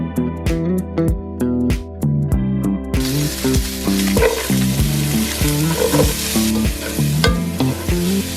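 Food sizzles and fries loudly in a pan during home cooking, with a rhythmic clanking of utensils stirring throughout and a burst of sizzle partway through.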